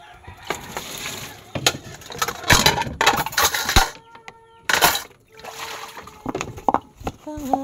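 Something is washed by hand in water outdoors in a rural province, with bursts of splashing and sloshing while chickens cluck and crow nearby and a person talks.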